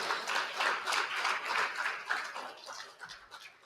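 Audience applause at a Tamil book launch event, honoring a young student singer; a moderate, steady wash of clapping from a crowd that tapers off toward the end, with no talking.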